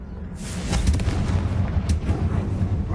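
In Hogwarts Legacy, a Confringo fire spell goes off as a single booming explosion. A sharp burst opens it, followed by a rumbling decay and a smaller crack near the end, fairly loud with no talk.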